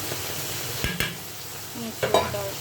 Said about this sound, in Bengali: এবার চিংড়ি মাছ দিয়ে একটু নাড়াচাড়া করে দেবো